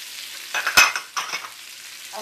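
Spoon stirring spices, salt and sugar into an amla pickle, with a few short scraping strokes and a sharp clink, close and clear, no talking.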